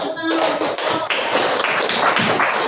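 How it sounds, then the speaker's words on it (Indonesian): A classroom of students claps hands together in a quick, loose burst of overlapping claps, close and fairly loud, with faint voices underneath. "Oke, berikan tepuk tangan."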